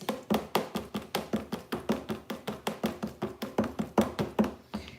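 Spoon steadily stirring cinnamon and spices into a lemon ginger shot, about twenty quick, even scraping strokes in a steady rhythm, close and clear with no talking.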